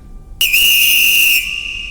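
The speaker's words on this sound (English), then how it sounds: "This isn't over until I blow the whistle." A single whistle blast kicks in sharply and holds a steady shrill tone for about a second, then cuts off, leaving a faint trailing ring; no voices.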